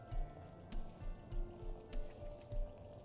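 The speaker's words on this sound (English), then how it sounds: "you can even hear that it sounds like a syrup boiling," Thick syrup bubbling in a pan, with soft regular pops and plops over a steady low simmer.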